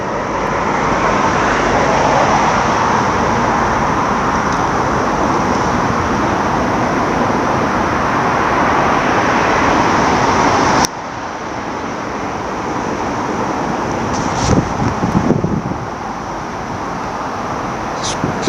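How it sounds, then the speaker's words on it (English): Steady roar of road traffic beside a dark cemetery at night, loud and continuous, dropping slightly partway through, with brief louder vehicle passes near the end. "Too noisy here. Traffic."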